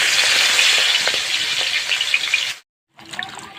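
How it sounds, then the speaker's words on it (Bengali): Fish frying in hot oil in a home kitchen, a dense, steady sizzle and crackle that fills the clip, cutting out briefly to silence before resuming more softly. "মাছ ভেজে নিচ্ছি।"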